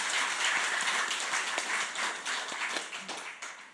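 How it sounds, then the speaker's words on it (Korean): A church congregation claps in dense, sustained applause that fills the room and fades slightly toward the end. "하나님께 영광의 박수."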